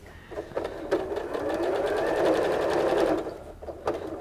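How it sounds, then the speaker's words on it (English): A sewing machine runs in a short burst stitching a seam on a Christmas stocking, a fast whirring drone with clicks at the start and end, close and clear with no talk. "you are just going to sew just a little seam, or you're just gonna seal those edges where you had that opening"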